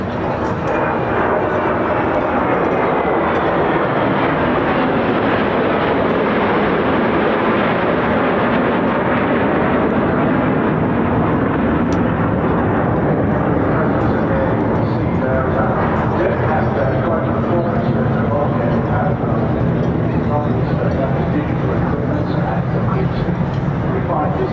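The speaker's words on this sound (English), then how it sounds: "Here they come in the hands of Stellan Andersson and Lars Martinsson, the Draken formation from the Swedish Air Force historic" Saab Draken jets of the Swedish Air Force Historic Flight fly in formation at an air festival, a steady, broad jet roar that persists throughout with an announcer talking over it.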